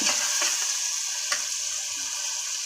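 Tomatoes and green chillies sautéing in a pan for tangy tomato rice, a steady close sizzle with a few brief stirring scrapes and no talk.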